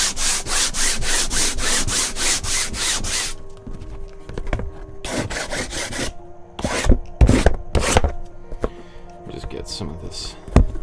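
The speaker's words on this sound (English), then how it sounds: "I'm going to take a 100 grit sandpaper here and just give it a quick sanding" Quick hand sanding of a gessoed panel with 100-grit sandpaper: fast, even scratchy strokes at first, then scattered rubbing passes while a person talks.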